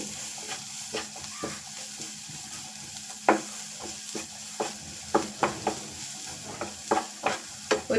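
Onions sauté with salt in a pan for Kerala-style kothu parotta, a continuous close sizzle punctuated by frequent rhythmic scrapes and taps of a spatula stirring.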